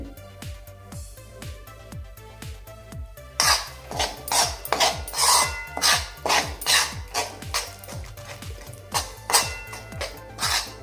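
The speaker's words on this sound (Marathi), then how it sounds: "ही मेथी पावडर व्यवस्थित अशी मिक्स करून घेऊया पिठामध्ये" A spoon stirs soaked fenugreek into roasted flour in a metal pan, giving steady rhythmic clinks and scrapes close by that grow louder and faster partway through.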